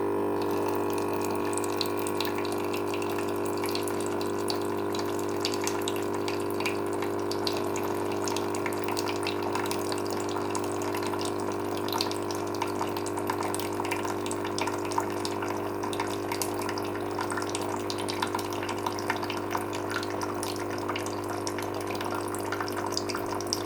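Perfect Prep baby formula machine dispensing its remaining cooler hot water, a steady continuous pour with a constant pump hum running alone for over twenty seconds at moderate level.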